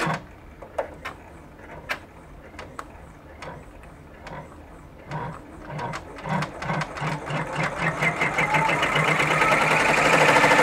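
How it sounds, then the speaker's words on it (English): An embroidery sewing machine stitches a tack-down stitch holding appliqué fabric in place, starting with sparse separate needle clicks that speed into a fast, steady mechanical chatter growing louder. "So now, what the machine is going to do, the next stitch is called the tack down stitch, and the tack down stitch is what holds the fabric in place."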